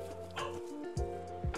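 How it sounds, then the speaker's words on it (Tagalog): A dog gives three short, sharp barks spaced evenly over a second and a half. They sound faint and somewhat distant against a steady tonal background hum. "Aso, may aso."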